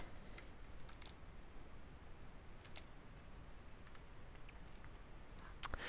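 A computer mouse gives a few sharp, faint clicks, spaced irregularly over a steady low background hum.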